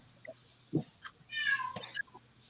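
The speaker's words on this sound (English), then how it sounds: "Oh, cat." A house cat meows insistently indoors, apparently wanting to go out or be fed. A single drawn-out, close meow rises and falls, with a few softer chirps and small household knocks around it.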